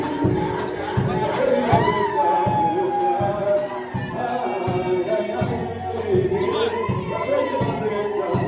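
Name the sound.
wedding guests cheering the couple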